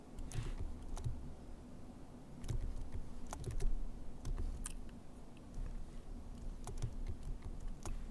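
Computer keyboard keys are pressed as shortcut combinations like Ctrl Alt Z, producing scattered soft clicks and taps close by over a faint background hum, with no talking.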